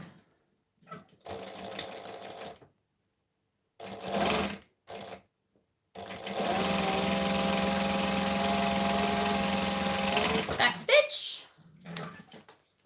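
A sewing machine stitches the corners of a baby bag in one steady run of about four seconds. Shorter bursts of machine noise come before it, with light handling sounds in the quiet gaps.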